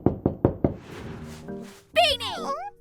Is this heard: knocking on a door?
yes